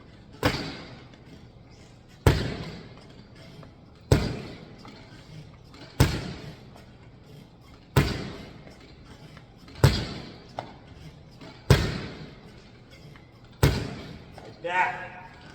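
A flexible weapon strikes an object in a steady series of about eight sharp thumps spaced roughly two seconds apart, each ringing briefly before the next, with faint talk between hits.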